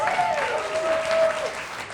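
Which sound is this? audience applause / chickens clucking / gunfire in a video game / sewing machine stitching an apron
audience applause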